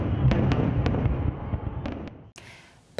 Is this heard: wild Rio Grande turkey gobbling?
no